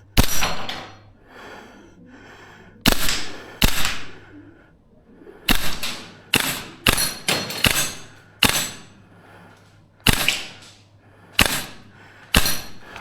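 A VFC URGI V3 gas blowback airsoft rifle fires at cheap Texas Star plate targets, about fifteen sharp, loud cracking shots in uneven single and double bursts, each followed by a brief ringing decay, with no talking.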